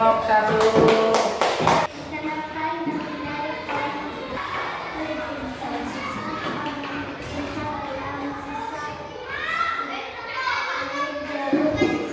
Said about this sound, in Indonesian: Terima kasih, tepuk tangan untuk kelompok 3.